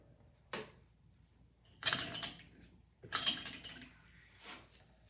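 Shears snipping a floral stem for a small frosted winter magnolia arrangement, a few close crisp cuts and rustles of foliage spaced apart.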